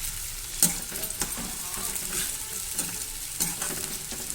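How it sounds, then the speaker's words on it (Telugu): Thinly sliced onions fry over a low flame for chicken dum biryani, a soft steady sizzle with occasional stirring scrapes and a light utensil tap near the start, no talk. "ఈ సన్నగా సిమ్లో పెట్టుకొని గోల్డెన్ బ్రౌన్ వచ్చేంత వరకు వేయించుకోవాలండి"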